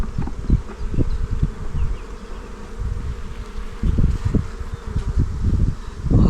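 Honeybees drone loudly at an open hive during a warm spell, a dense close buzz with repeated swelling pulses as bees fly near.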